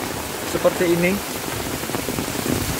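Heavy rain driven by strong wind around a house, a steady broadband wash of falling water throughout, with a voice speaking briefly over it near the start.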